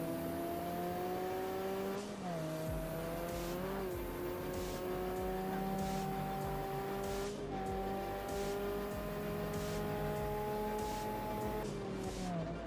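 Ford GT90 concept race car in Ford Racing 3, its engine droning loud and steady with pitch sweeps at gear shifts, a short tire squeal, and a rival car nearby.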